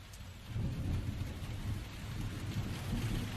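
Steady rain falls outdoors at Pangandaran with low rolling thunder rumbling beneath it, a dense, continuous wash of sound without voices.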